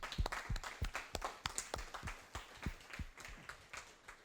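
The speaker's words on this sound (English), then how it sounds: "I'd like to give you a round of applause for everything you've done" Audience at an MBA graduation ceremony clapping, fairly quiet, with sparse individual claps in an uneven rhythm rather than a dense ovation.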